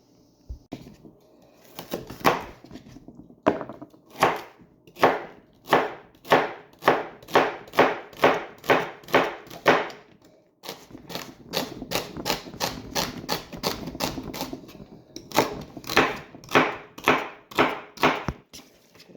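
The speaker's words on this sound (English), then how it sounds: "Chopping and slicing vegetables is kind of boring" A knife chops celery and onion on a cutting board in quick, regular runs of sharp taps, each burst of several strokes separated by short pauses, close and crisp with no voice.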